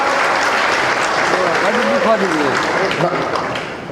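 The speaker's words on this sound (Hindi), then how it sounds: "जोरदार तालियों से स्वागत।" Strong applause from a crowd at a political gathering in Bhiwani welcoming a guest on stage, a dense steady clapping wash with a voice speaking over it before it tapers slightly.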